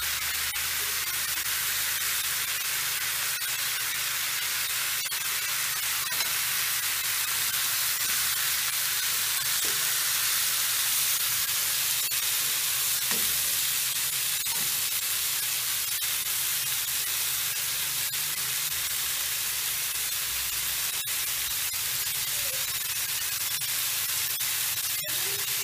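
Chicken seasoned with salt and pepper frying in a pan over high heat, giving off a steady, dense hiss that holds at an even level throughout with no voices.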